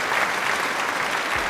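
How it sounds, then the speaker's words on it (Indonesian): An audience applauds for a guest, a dense, steady roar of many hands clapping together that fills the short moment. "Sekali lagi berikan tepuk tangan untuk Fikri"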